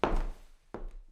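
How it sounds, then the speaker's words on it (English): A wooden gavel strikes twice at a mock courtroom ruling, two sharp, close, solid thunks spaced under a second apart, each with a short resonant decay and no talk over them. "This is the sound of a gavel."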